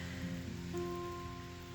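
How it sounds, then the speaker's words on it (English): Steady rain patters down over a garden among leafy trees, a soft continuous hiss with a faint tonal hum running beneath it throughout. "And it's raining"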